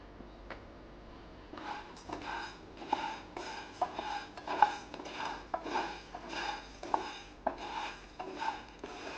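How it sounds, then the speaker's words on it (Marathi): Sago pearls (sabudana) dry roasting in a hot pan, with repeated scraping and rustling bursts roughly every second as the spatula stirs, fairly quiet and close, with no talking. "पॅन गरम झालेली आहे त्याच्यात हा साबुदाणा व्यवस्थित आपण भाजून घेऊया"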